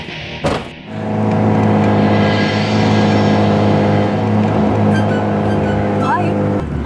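A sports car's engine drones loud and steady as it drives after a brief thump, with people talking over it.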